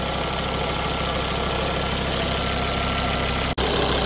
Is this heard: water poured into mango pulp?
no